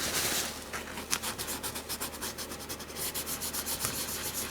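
Gilding wax being rubbed onto a book spine by hand, a close, dry scrubbing of quick repeated strokes at a brisk, even rhythm.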